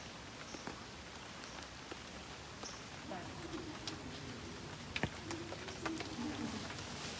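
Rain falls at Taipei Zoo during a storm, a faint, steady patter on surfaces with scattered sharper drips and taps throughout.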